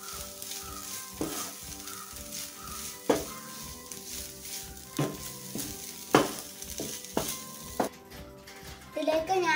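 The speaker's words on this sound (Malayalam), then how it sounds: "ഇനി നമുക്ക് ഇതിലേക്ക് ചിക്കൻ ഇട്ട് കൊടുക്കാം. ഇനി ഇതൊന്ന് നല്ലവണ്ണം ഇളക്കി കൊടുക്കാം" Chicken sizzles in a pan while being stirred for a tapioca cutlet filling, with repeated scraping strokes over a steady frying hiss, close by, while a voice talks over much of it.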